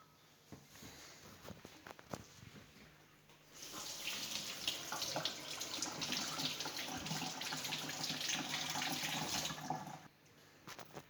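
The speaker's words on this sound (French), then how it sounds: "Maintenant, je vais aller me laver les mains rien qu'avec de l'eau." Hands are washed under a running tap with plain water, a few faint knocks and rustles first, then a steady splashing stream for several seconds that stops abruptly near the end.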